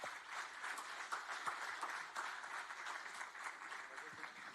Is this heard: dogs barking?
no